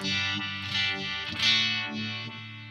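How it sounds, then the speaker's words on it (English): Electric guitar chords run through a Uni-Vibe pedal's optical-cell pulsing modulation, the tone swelling and wavering in a steady rhythmic wobble. "you can hear the pulse of that optical cell"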